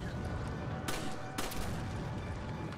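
Two sharp pistol shots ring out about half a second apart in the co-op game Resident Evil 5, over a steady wash of game background noise.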